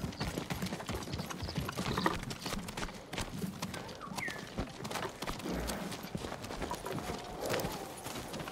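Horse hooves clip-clop steadily on hard ground in the video game Ghost of Tsushima, a continuous walking rhythm at moderate distance, with no talking.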